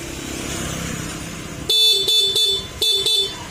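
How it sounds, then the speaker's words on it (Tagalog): Stock horn of a Honda Click 125 V3 scooter sounds in several loud, close beeps, one long blast then shorter honks in an uneven rhythm, following a steady idling engine hum. "yung stock horn."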